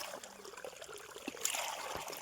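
Irrigation water trickles into a farm field in a faint, steady wash of flow that continues throughout, with no voices.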